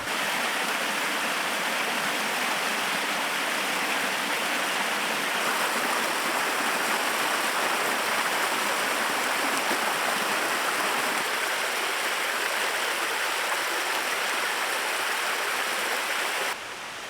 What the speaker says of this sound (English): show you the stream. It's flowing really well right now.